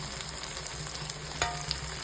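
Ground spices, including Kashmiri chili powder, go into already-fried masala in a pan for a Bengali jackfruit curry, giving a steady, close, dense sizzle with a few faint stirring scrapes and no talking.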